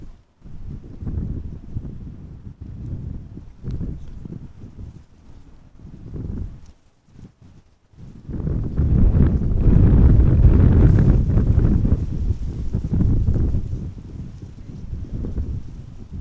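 Strong crosswind buffets the microphone at Amsterdam Schiphol Airport, a loud continuous roaring rumble that dips briefly, then surges harder and stays heavy to the end, with no voices.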